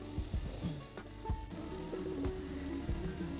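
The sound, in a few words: frying onion, panch phoron and green chilli in oil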